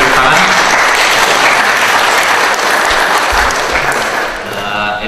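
A seminar audience bursts into loud, sustained applause, dense hand-clapping filling the room and tapering slightly near the end.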